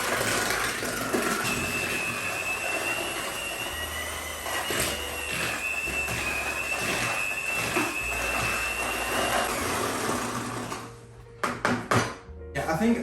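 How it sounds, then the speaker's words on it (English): Butter being mixed with sugar for Christmas sablé biscuits, a continuous whirring mixer drone with scraping and clattering against the bowl, ending in a few knocks. "So now we just need to mix the butter with the sugar"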